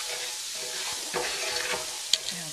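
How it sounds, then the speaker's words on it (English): Diced onions sizzle in a hot pan, a constant bright frying hiss with occasional stirring scrapes and small pops, close and without speech. "So this pan is already on and getting hot. You can hear it sizzle."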